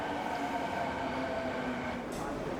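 A Fukuoka subway train travels on its way toward Hakata Station, giving a steady rumbling drone from inside the car, with a faint brief high hiss near the end.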